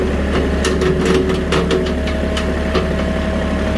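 Bobcat 610 skid steer engine running steadily in a backyard, a loud continuous low diesel drone with faint clanks and rattles over it.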